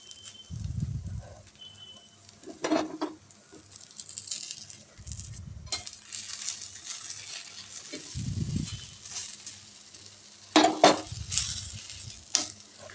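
Fasting dhirde pancake roasting in oil on a pan gives a soft, steady sizzle throughout. Low, muffled thumps and knocks recur every couple of seconds, with a few brighter clinks of utensil on pan.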